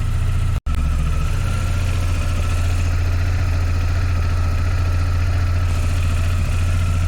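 A motorbike engine idles steadily and loudly on its own, burning off residue oil, with a constant low rumble and one brief dropout near the start.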